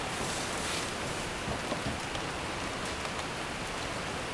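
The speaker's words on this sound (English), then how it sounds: "Rain." Steady rain falls outdoors during a pottery session, a continuous even hiss of drops on surfaces with no voices, moderately loud throughout.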